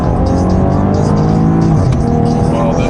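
A wrecked Maserati Ghibli S accelerating hard, its engine droning loudly and steadily close to the microphone as it gains speed, with a brief shift in pitch near the end and no talk.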